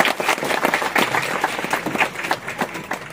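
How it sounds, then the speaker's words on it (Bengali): Audience applause at a cultural function in a hall, a dense, steady patter of many hands clapping throughout, fairly close and sustained, with faint crowd murmur underneath. "একটু একবার হাততালি।"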